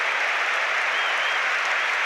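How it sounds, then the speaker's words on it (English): Football stadium crowd at the Championship playoff final between QPR and Derby gives a sustained standing ovation, a dense, steady roar of clapping filling the air throughout. "this standing applause on 31 minutes is for a BBC Radio Derby"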